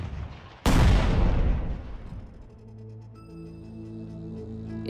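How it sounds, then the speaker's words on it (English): Civil War Union artillery firing at Atlanta: one sudden loud cannon boom rolls out into a long fading rumble, then gives way to a quieter sustained tone. "Sherman turns to Union artillery."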